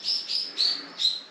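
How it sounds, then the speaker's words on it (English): Small birds chirp in four quick, thin, high calls on a quiet island, close and clear against a silent background. "I can hear the birds."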